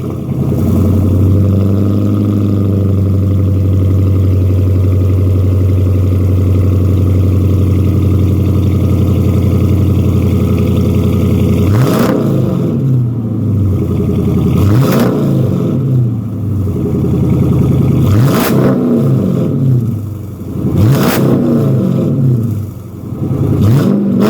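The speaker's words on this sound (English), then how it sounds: "he does have the exhaust, which is really loud" A Dodge Charger R/T with a loud aftermarket exhaust idles with a deep burble, then is revved hard several times in a row, each blip a sharp rising roar that falls back to idle.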